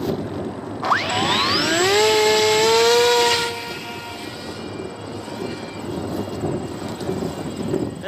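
A small RC plane running a KK2.0 auto-leveling board on a flight test, thrown level into the wind: an electric motor whines up sharply in pitch, holds a loud high drone for a few seconds, then drops to a fainter hum under wind noise.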